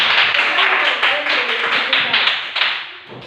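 Students clap together in a classroom after answering a maths question, a short burst of close, dense hand claps that thins out toward the end.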